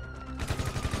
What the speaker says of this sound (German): So, jetzt hört man schon Schüsse.